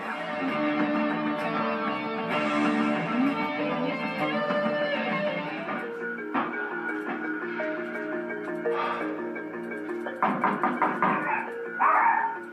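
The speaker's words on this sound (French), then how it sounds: "j'ai entendu un aboiement territorial teinté de frustration" A small dog barks territorially in sharp bursts with yips and whines, fairly close, amid a busy mix of background sounds.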